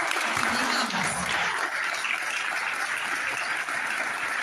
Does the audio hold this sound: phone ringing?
no